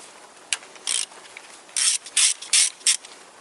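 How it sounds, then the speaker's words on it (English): A ratchet fitted with a 10mm socket works bolts loose on a Toyota Corolla's fuel injection area, giving several short bursts of close, crisp clicking separated by brief pauses. "And for that job I need 10mm socket, and I start that job in here"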